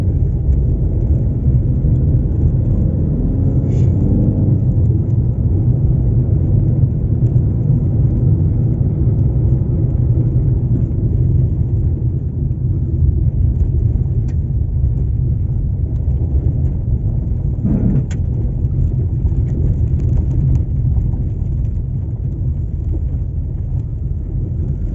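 A car drives along a rough road near the Manavgat reservoir in Turkey, its steady engine rumble and wind buffeting on the microphone continuing loud and unbroken throughout.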